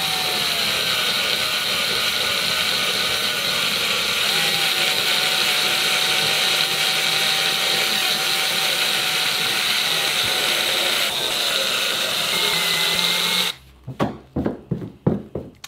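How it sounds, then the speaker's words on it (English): A drill with an eraser wheel runs steadily at low speed, removing adhesive from a car's painted surface, with a grinding, ratcheting whir for over thirteen seconds, then stops, followed by a few sharp clicks and taps. "Set your drill to 1 so it goes slower, and you just erase this without damaging the paint"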